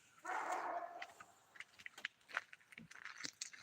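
A dog barks in a short burst, then faint chewing or clicking noises follow, the animal sounding a little distant and fairly quiet.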